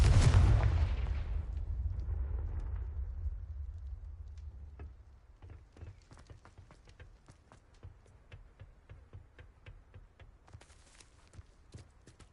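A Confringo spell in Hogwarts Legacy detonates with a loud, booming blast that rumbles and fades over several seconds, followed by scattered faint footsteps and small impacts.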